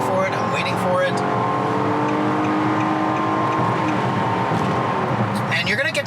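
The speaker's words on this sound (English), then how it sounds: "My foot is to the floor here in the CVT." A 2019 Nissan Murano SUV with a CVT accelerates at full throttle, the engine droning steadily in a constant strained hum with faint road noise, heard from inside the cabin.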